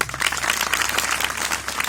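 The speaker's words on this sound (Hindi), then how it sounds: "निश्चित रूप से गुरुजनों के लिए जोरदार ताली बजाइए।" School audience applauding its teachers, a dense, steady wash of many hands clapping together for the full two seconds, fairly loud and with no talk over it.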